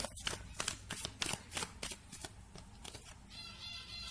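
Tarot and Lenormand cards being shuffled by hand, a rapid series of crisp riffling flicks and slaps, close and fairly quiet, with no talking.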